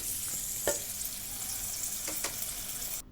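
Cauliflower stir-fried with spices in a pan: a quiet, steady sizzle broken by a few sharp spoon taps and scrapes, ending abruptly, with no talking.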